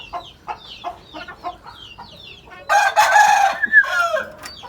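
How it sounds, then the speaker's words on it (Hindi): A Lakha aseel rooster with white eyes crows loudly nearby, one long drawn-out call, while other chickens cluck and chatter around it at a poultry market. "लाखा मुर्गा है"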